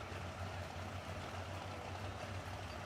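A pulling tractor idles while lining up at a tractor pull event, a steady low rumbling drone under constant broadband wash of crowd and outdoor noise.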